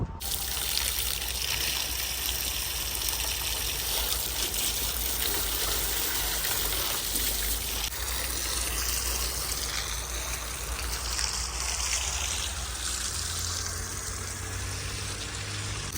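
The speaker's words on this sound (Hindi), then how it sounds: "इनको तर कर लेते हैं, पानी लगा देते हैं" Water poured and trickling over construction bricks to soak them before laying at a village house site, a continuous steady splashing stream heard close and alone throughout.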